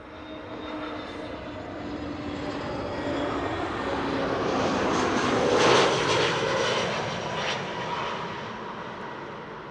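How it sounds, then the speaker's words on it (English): An Airbus A320neo jet airliner at Amsterdam Schiphol Airport roars past, its engine noise swelling to a loud peak near the middle and then fading away, with no talking. "A320 Neo. 1 hour 57 minutes on the way."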